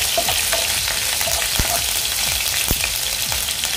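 Finely chopped green chillies, seven or eight of them, fry in hot oil in a pan, a steady close sizzle and crackle with occasional light stirring clicks throughout.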